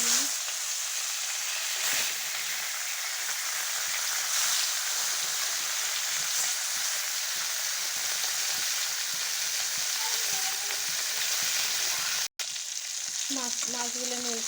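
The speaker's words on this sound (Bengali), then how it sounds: "মাছ আমি এখন তেলের মধ্যে দিয়ে দিচ্ছি ভাজার জন্য" Fish sizzling in hot soybean oil, a steady loud crackling fry that runs continuously, broken by a brief gap near the end and a few light clinks of a utensil on the pan.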